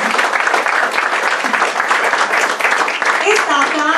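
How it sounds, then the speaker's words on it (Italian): Audience applause at a poetry book presentation, sustained loud clapping from a room of people with voices and cheers mixed in toward the end. "Maria Pia Cappello, per la quale vorrei un bel applauso"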